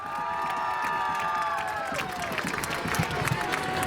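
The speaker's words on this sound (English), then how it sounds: "Let's have a round of applause for our 9th grade homecoming court, Kara Miller and Benjamin Sylvia" A crowd at a high school homecoming event cheers and claps for the ninth-grade homecoming court, with a moderately distant mix of applause, whoops and shouts plus some tonal ringing in the background.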